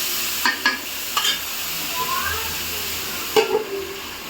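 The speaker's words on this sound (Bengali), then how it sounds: "মূলা দিয়ে মশলাগুলো ভালোভাবে নেড়েচেড়ে একটু কষিয়ে নেব।" Radish and spices frying in a pan, a low steady sizzle with a few short scraping stirs of a spatula, close and moderate in level.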